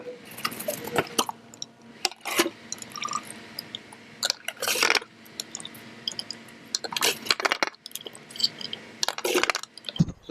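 Fluid trickles and splashes into a car's clutch reservoir in several short bursts, with close-up liquid gurgles and plastic handling clicks between pours.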